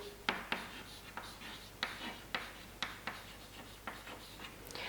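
A pen writes a chemical formula on paper in quick, regular scratchy strokes, about a dozen short taps and scrapes, close and quiet with no talking.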